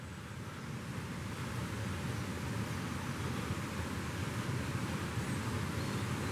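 Water roaring down a reservoir slipway in the woods, a faint, distant, steady broadband rumble with a low hum, continuous and without speech.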